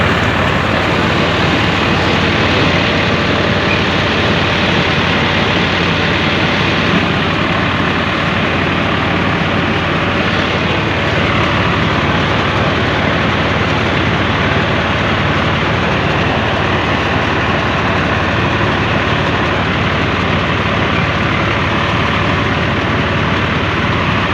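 A 2015 Swaraj 855 diesel tractor pulling a reaper runs continuously with a loud, unbroken heavy engine roar close by.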